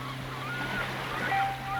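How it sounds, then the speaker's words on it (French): Waves rolling and unfurling on a quiet beach at dusk, a soft steady wash with gentle swells, accompanied by a low hum and faint thin tonal whistles. "Sur cette plage paisible, les vagues roulent et se déroulent"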